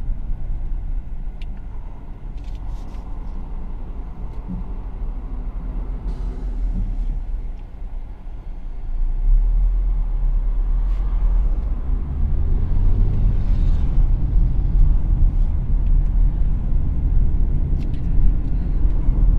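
A Hyundai Creta driving through city streets, heard from inside as a steady low engine and road rumble that grows louder and heavier partway through, with faint light clicks and no talk.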